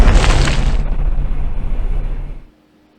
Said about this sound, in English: I think the explosion force did push the ship